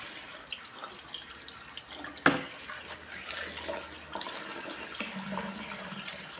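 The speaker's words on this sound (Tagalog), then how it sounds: "Chicken nuggets. Hugasan muna natin." Chicken nuggets are rinsed under a running kitchen tap, giving a steady soft stream of water with one sharp knock midway and changes in the splashing near the end.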